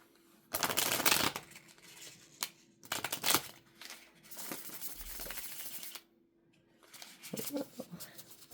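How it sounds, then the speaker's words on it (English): Bursts of tarot cards being shuffled, quick riffling flutters repeated several times close by, with quiet pauses in between. "We need to shuffle."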